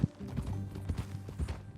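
A horse in Red Dead Redemption 2 clip-clops in a brief run of soft, muffled hoof strikes over a low rumbling backdrop, with no voices.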